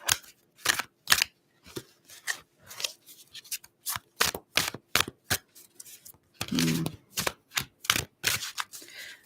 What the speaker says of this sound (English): I have to shuffle a bit.